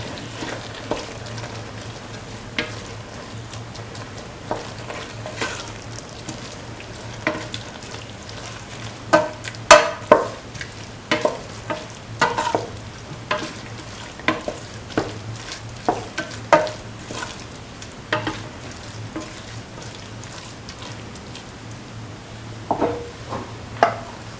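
Cauliflower, potato and coconut milk rice is stirred in a frying pan under a low sizzle, with repeated scraping and tapping strokes of the spoon that grow busier midway.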